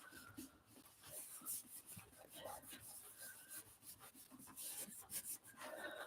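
A journal page rubbed from the back by hand, a soft, close, continuous scratchy rubbing in quick irregular strokes, quiet and alone.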